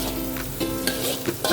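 Meatballs, beef sausage and spring onion crackle and sizzle as they are stir-fried in a pan for fried rice, with steady frying hiss and a few scraping stirs of the spatula, close up and with no talking.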